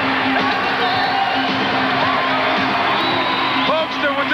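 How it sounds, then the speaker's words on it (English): Capacity crowd roaring and cheering at a Meadowlands pro wrestling match, a dense continuous wall of whoops and yells that stays loud and steady throughout. "With this capacity crowd in his pocket as he's got everybody on their feet."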